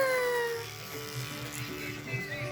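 An electric hair clipper buzzes steadily close by while shaving a small child's hair at home, a continuous mechanical hum with shifting tone, and a voice talks over it.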